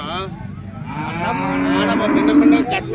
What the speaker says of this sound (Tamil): நாட்டு பசு.